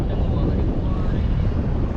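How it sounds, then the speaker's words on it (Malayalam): A boat approaches across open water near a kayak off Bahrain, recorded on a GoPro Hero9 and buried in steady, loud wind buffeting on the microphone; a dense, continuous low rumble fills the full two seconds without clear breaks. "ബോട്ട് മച്ചാന്മാർ വരുന്നുണ്ട്. ബ്രോ അത് ഇങ്ങോട്ടാണല്ലോ വരുന്നത്."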